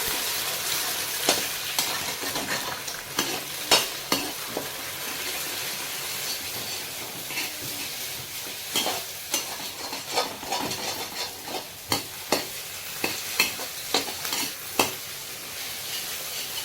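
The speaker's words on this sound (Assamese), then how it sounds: "এয়া ডিমটো ফ্ৰাই কৰি লৈছোঁ প্ৰথম।" Two eggs fry in a pan with a steady crackling sizzle, punctuated by sharp pops and spatula scrapes that come more often in the second half, close and fairly loud.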